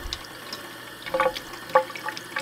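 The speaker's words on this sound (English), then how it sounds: "You're gonna run the water to cool." Cold tap water runs into a sink to rinse aquarium plants for a planted tank, heard as faint, uneven splashing and trickling with a few brighter spatters.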